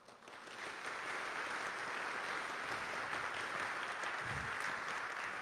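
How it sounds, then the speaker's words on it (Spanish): An audience at a philosophy symposium on artificial intelligence gives a welcoming round of applause for the invited speaker. Clapping begins within the first second and holds as a soft, steady, somewhat distant patter of many hands, with no talking. "Con un fuerte aplauso."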